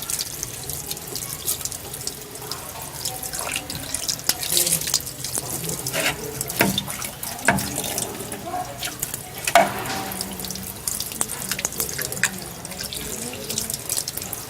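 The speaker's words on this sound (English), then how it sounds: "we're just going to put some water to clean the blades" Tap water runs steadily into a sink to rinse blender blades, a continuous splashing hiss with occasional clatters and knocks, while a voice is faintly heard in the background.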